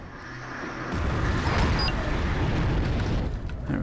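Bombs detonate on supply trucks in the video game Wargame Airland Battle: a loud, sustained rumbling blast swells in about a second in and rolls on as a dense, roaring wall of noise.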